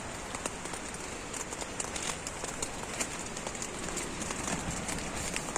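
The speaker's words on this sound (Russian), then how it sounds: "Дождь идет." Steady rain patters on a tent on the shore of Lake Turgoyak during gusty wind, a dense close hiss of drops with small irregular taps, continuous with no voices.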